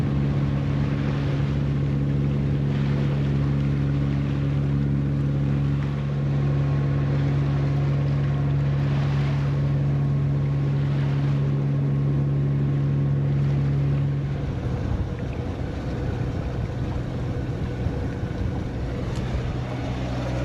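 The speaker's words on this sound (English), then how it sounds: "I put a little heat on the motor just to try and get us out of this current a little quicker." A sailboat's motor runs steadily at sea on a solo crossing toward Tahiti, a loud constant hum with a tonal drone, carrying wind and water wash. The engine note shifts and drops away near the end.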